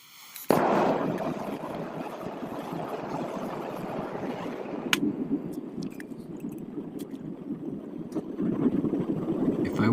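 A furnace melting gold-plated scrap shells roars steadily and loudly from close by after a sudden start, with sporadic faint clicks and crackles over the broadband rush.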